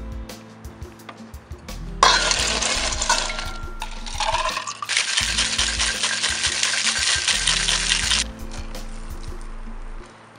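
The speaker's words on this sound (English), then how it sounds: "We're gonna put the ice in." Ice goes into a margarita made with tequila, clattering and rattling against glass in several loud pours and scoops, with a bright continuous jangle of cubes settling, then a quiet close.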